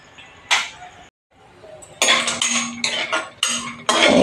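Dry fruits roasted in ghee in a kadhai for fasting laddoos, with bursts of metal spatula clinking and scraping against the pan, broken by brief pauses and then a run of busier stirring.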